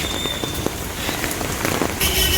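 Steady rain patters on a hard surface nearby, a dense, constant hiss with scattered drops growing slightly heavier at the end.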